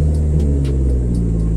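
A manual-transmission car engine rumbles low and steady at close range while a learner driver practises clutch control, with the engine taking on some throttle for a brief moment.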